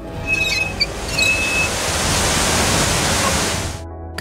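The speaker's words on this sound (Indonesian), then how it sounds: "Buggy langsung menarik tuas air yang siap memenuhi tangki tersebut." Water rushes into a tank after a lever is pulled, heard as a loud, broad roar of pouring water that builds and holds steady, with brief tonal whistles early on, then cuts off abruptly.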